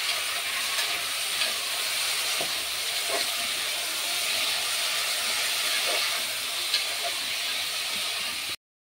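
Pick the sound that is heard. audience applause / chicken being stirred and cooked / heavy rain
chicken being stirred and cooked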